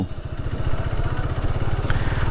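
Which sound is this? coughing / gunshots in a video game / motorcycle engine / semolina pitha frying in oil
motorcycle engine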